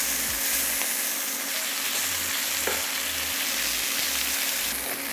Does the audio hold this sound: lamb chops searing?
yes